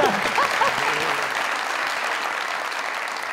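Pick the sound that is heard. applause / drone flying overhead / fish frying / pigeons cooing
applause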